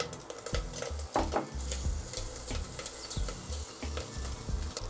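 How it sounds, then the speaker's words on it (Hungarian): Mealworm larvae frying in hot Portuguese olive oil, a steady crackling sizzle with stirring scrapes and soft clatters of a pan, close and continuous with no talk. "Ha elég forró az olaj, mehet bele a liszkukac."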